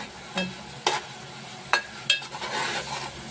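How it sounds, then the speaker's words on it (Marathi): Raw masala for a sooya recipe is roasted and stirred in a pan, with a few sharp scraping strokes over a low, steady sizzle. The sound is close and fairly quiet, with no talking. "मसाला आपल्याला व्यवस्थित भाजून घ्यायचा, कारण सर्व कच्चाच आहे।"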